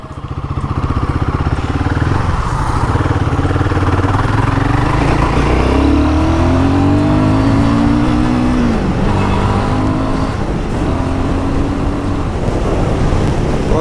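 A Royal Enfield Guerrilla 450 motorcycle accelerates in eco mode, its engine close and loud, pitch climbing through gears with a brief drop at a shift before pulling on steadily.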